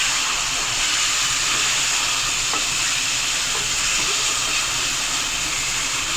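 Chopped tomatoes frying in garlic ginger paste for a restaurant-style chicken palak, giving a steady, even sizzle and hiss that runs unbroken throughout with no voices.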